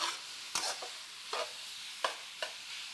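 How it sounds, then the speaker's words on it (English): Ground pork frying over high heat in a pan, a soft steady sizzle punctuated by four or five sharp scrapes and taps as a spatula breaks up the meat. "Toss in the ground pork and use your spatula to break up any big chunks of meat."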